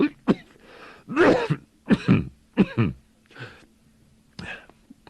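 A man coughs and clears his throat in short, harsh bursts, several spaced hacking coughs from a close, dry voice in a quiet room, with breathy wheezing between them and no other talk.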